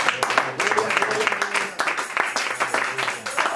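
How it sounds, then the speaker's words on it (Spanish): A congregation at a church service claps in a lively, uneven burst of applause with sharp individual claps, with voices faintly mixed in beneath it. "¡Denle otro aplauso a Jesús!"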